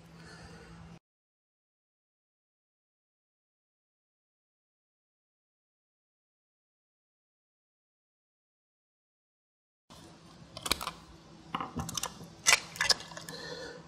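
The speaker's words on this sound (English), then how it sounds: "We're going to remove the casing block, each of the four screws." Casing block screws being removed from a HiBlow HP-80 air pump, heard as quiet mechanical clicks and metallic ratcheting at close range after a long silent gap.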